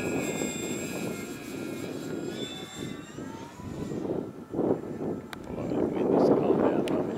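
An Avios Albatross HU-16 US Coast Guard RC flying boat passes overhead in gusty wind, its twin electric motors whining and shifting pitch, with men chatting over it.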